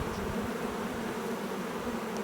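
Package honey bees buzz inside a hive, a dense continuous drone that holds steady and close for the whole stretch, with no voices.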